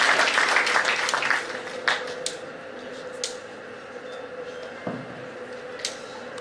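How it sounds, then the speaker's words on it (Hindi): An audience at an Indian award ceremony gives a burst of applause welcoming the mayor of Indore onto the stage, loud at first and then thinning into scattered claps with faint background murmur. "जबरदस्त तालियों से हम सर का मंच पर स्वागत करें।"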